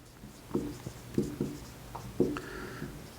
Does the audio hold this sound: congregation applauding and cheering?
no